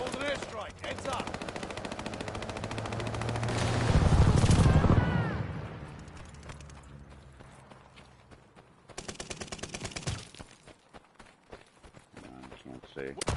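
Airstrike explosions in a Call of Duty Vanguard multiplayer match, a loud rumbling blast swelling around the middle amid steady machine-gun fire and battle noise, with voices talking over the combat.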